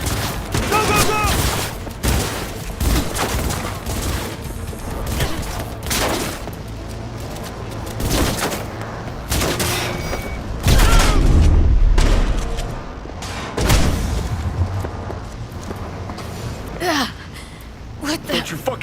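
Rapid gunfire bursts crackle repeatedly through a Cyberpunk video game firefight, loud sharp volleys clustered in irregular rhythm with deep booms, while players shout and talk over the shooting.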